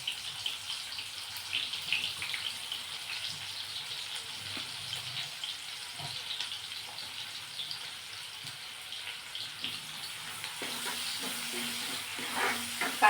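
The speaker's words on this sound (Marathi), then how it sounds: "तेल बटर सुद्धा गरम झालेलं आहे। यामध्ये हा बारीक चिरलेला कांदा टाकायचा।" Finely chopped onion frying in hot oil and butter for pav bhaji, a steady soft sizzle with occasional stirring scrapes, close and moderately quiet, no voices.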